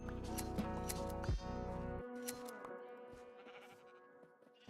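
Sheep in Minecraft Bedrock Edition 1.21 bleat in a few clear, loud, nasal calls, with game sounds around them and a sharp bleat near the middle.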